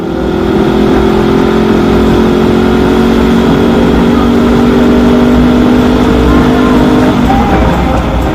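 A Honda CB500X motorcycle engine drones loudly and steadily at cruising speed on the road in Shanghai, mixed with rushing wind noise, with no break for the whole stretch.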